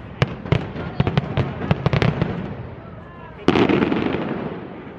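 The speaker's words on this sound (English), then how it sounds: "Disney's throwing up fireworks" A Disney fireworks display bursts in a rapid, irregular string of sharp pops and bangs at moderate distance, then a heavier boom at 3.5 s rolls into a sustained crackling rumble, with faint background voices underneath.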